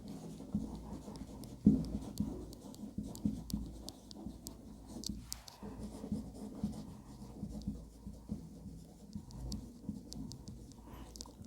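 Handwriting on a board during a biology lesson, soft scratching strokes and occasional taps over several seconds, faint and close with some quiet background.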